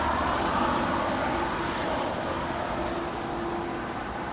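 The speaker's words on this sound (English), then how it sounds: "That is a United Dreamliner 787-10, just landed from Newark Liberty," A United Boeing 787-10 Dreamliner just landed at Los Angeles International Airport, a steady broad jet engine roar at moderate distance holding even throughout, with no talk.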